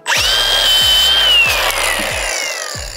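A loud power drill whines at high pitch, then bites and grinds as it works through a plum tree, winding down gradually over a few seconds.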